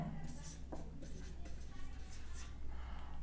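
Chalk or pen scratching across a board during a math lesson on plotting a linear programming graph, a steady run of writing strokes under a low hum and some faint background voice.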